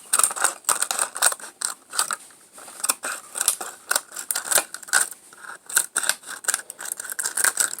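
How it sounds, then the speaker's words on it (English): Scissors snip repeatedly through a sheet of plastic, cutting petal strips for a recycled flower craft in a close, crisp series of rapid clicks and crunches with brief pauses. "we're going to cut little strips into the plastic to make our petals"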